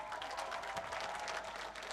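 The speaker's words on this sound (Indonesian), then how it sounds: "Oke, beri tepuk tangan sekali Ya. lagi untuk Proliman." Studio audience applause for a contestant from Solo at an Indonesian televised talent audition, a steady dense wash of clapping with no pauses for the whole moment.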